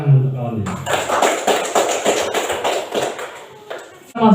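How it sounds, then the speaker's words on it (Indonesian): A class of schoolchildren applauding a classmate, dense rapid clapping filling most of the moment with light shuffling, a voice speaking briefly at the start and end. "Tepuk tangan untuk kawannya"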